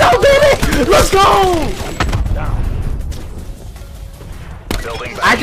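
ICR-7 rifle gunfire in Black Ops 4, with loud, rapid close bursts in the opening seconds followed by scattered shots and game noise, while a player talks over the action.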